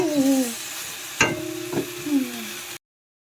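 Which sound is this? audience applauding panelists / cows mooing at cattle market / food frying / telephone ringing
food frying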